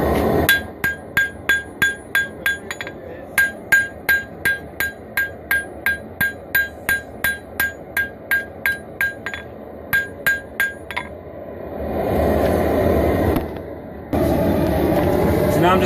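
Hammer blows ring out on a steel dagger being forged on one side, a steady run of sharp, loud metallic strikes with brief pauses before the hammering stops and a broad noisy hiss takes over.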